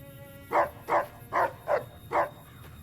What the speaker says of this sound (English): Don't need to bark at us, though.